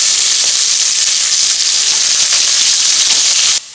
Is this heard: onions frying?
yes